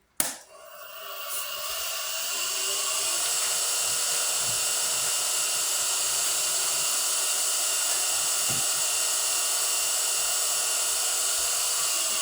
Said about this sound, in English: So we sand that lightly.